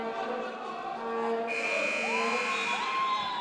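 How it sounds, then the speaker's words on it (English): A loud, harsh electronic basketball game buzzer starts midway and holds steady over crowd noise in a large indoor gym during a school game. "Shot is not taken before the buzzer sounds."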